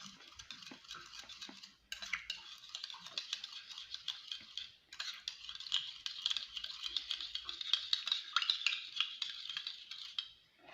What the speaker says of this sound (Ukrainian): Отак перемішую для того, щоб все це розчинилося.